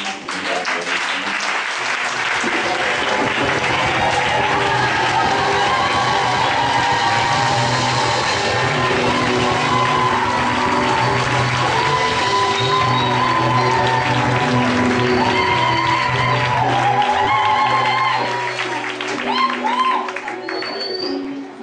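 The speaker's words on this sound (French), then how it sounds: "je voulais souhaiter que on acclame celui qui nous a réunis ici" A large convention crowd cheers and applauds, sustained and loud, with steady clapping, whoops and voices blending into a dense roar that lasts throughout before easing slightly at the end.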